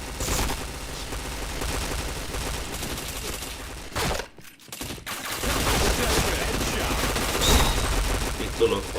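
Rapid gunfire in a shooting video game, dense bursts of shots running almost continuously with a brief lull midway, loud and close, with players' voices faintly mixed in.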